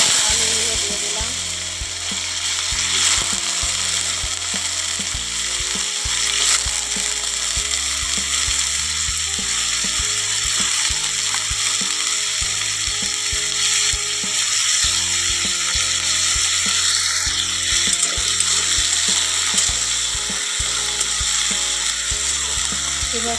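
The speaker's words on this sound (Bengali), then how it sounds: "ফোড়ন দেখো ভাজা হয়ে গেছে। আলুগুলো দিয়ে দিলাম।" Potatoes hit hot oil after a chili tempering and sizzle in a continuous hiss, loud and steady throughout, with scraping and clattering from the pan underneath.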